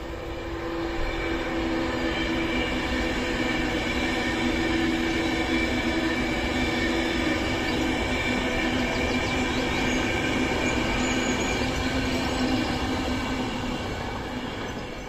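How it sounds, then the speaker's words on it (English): A train passes near a bridge on an old railway route in Macclesfield, its steady rumble and wheel noise holding loud and even throughout with no voices. "oh, a train."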